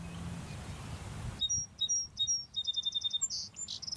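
Birdsong from a Merlin Bird ID app ad: bright, close chirps and whistles come in after a short stretch of hiss, then repeat in quick rhythmic bursts with no voices.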